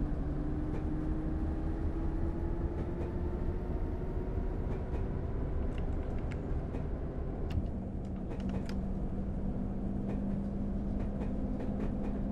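A train rolls steadily past at a station on the Bishop Auckland to Wearhead line, a continuous loud rumble with rising wheel and motor tones and occasional clanks, filling the whole stretch without voices.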